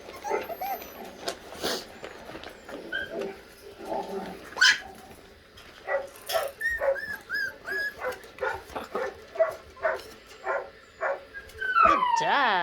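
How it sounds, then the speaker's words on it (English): Recorded dog barking sounds are played back as a series of short, sharp barks and yips in an irregular rhythm, with some whining tones near the end, fairly close and clear. "they get the dog barking sounds today"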